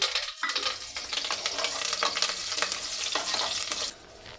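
Bay leaf and curry leaves crackle and sizzle in hot oil for a tempering, with a burst of spattering as they hit the pan and steady close frying hiss after, then a drop-off near the end.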